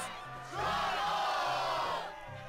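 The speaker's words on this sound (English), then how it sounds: "Yes, the crowd is fired up, so you know what comes next." A roaring crowd cheers in the Kingdom Hearts 2 video game, a loud sustained swell of many voices lasting about a second and a half over a low rhythmic music bed.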